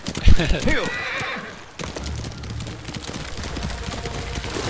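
A horse in the video game Ghost of Tsushima gives a loud, close whinny at the start, then hoofbeats and game ambience continue under a voice.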